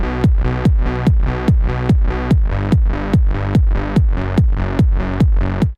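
Trance kick drum and bass playing together in FL Studio: a punchy, evenly spaced kick on every beat with a deep bass tone between hits, loud and alone, about a dozen hits before stopping.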